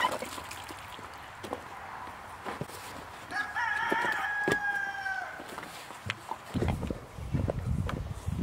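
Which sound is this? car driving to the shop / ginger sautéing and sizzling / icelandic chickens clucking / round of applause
icelandic chickens clucking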